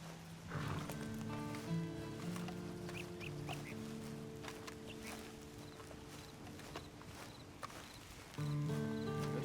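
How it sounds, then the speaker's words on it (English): Horse sounds in the Red Dead Online video game, faint movement and snorting over a steady layer of game music and ambience, with no clear hoofbeats standing out. "And you better get on this horse"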